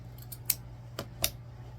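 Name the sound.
scissors cutting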